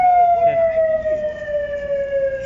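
An ambulance siren wails steadily near a road accident where a fruit-laden truck overturned, its tone sliding slowly downward as it holds on loud and close over traffic rumble.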